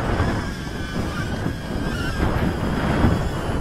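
Steady rushing wind gusts buffeting the microphone outdoors during a nano racing drone flight, a continuous broadband roar with gentle swells and no speech.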